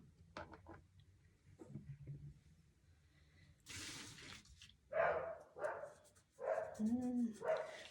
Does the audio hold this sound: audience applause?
no